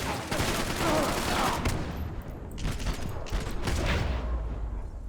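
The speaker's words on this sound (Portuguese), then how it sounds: "Cadê o cara que tá atirando em nós aqui?" Gunfire crackles in Max Payne 3 during a fight in a favela, dense bursts of automatic shots in quick succession, loud and close, with brief lulls between volleys.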